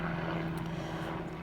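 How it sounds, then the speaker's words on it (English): A helicopter flies overhead, a continuous loud rotor and engine drone with a steady low hum throughout the brief moment. "There's a helicopter."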